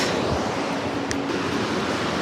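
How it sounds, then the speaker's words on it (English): A river gushes at a scenic sunrise spot, a loud, steady broadband rush of flowing water with no pauses and no talking over it. "I'm at a very beautiful location over here with the water gushing down the river"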